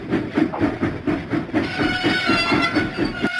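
Steam engine James from a Thomas and Friends video game puffs in a steady, rhythmic chuff of about a dozen even beats, close and clear with no talk.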